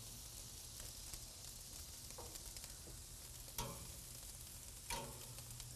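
Steak and eggplant frying in a hot pan give a steady, close sizzle, with a few brief louder crackles and scrapes as the food is moved or flipped.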